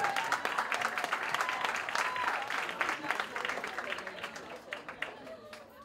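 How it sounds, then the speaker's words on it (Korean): Audience applause at a Korean community talent show prize ceremony in Chicago, a fairly quiet crowd clapping with distinct individual claps, tapering slightly toward the end, with faint voices mixed in. "여러분 큰 박수 부탁드리겠습니다."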